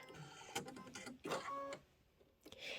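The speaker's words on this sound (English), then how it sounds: "Now it says stitch the background tack down line." An embroidery machine stitching a quilt block's background tack-down line gives a quiet, rapid mechanical whirring and clicking in short bursts, with pauses between them.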